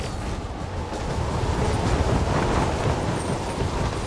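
A moving train rumbles in the video game Metal Gear Rising: Revengeance, a steady, dense roar of wheels and rushing wind that holds loud and unbroken throughout.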